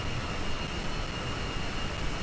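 A TAP passenger jet touches down on the runway, heard as a steady, loud broadband roar of engine and wind noise with no distinct impact.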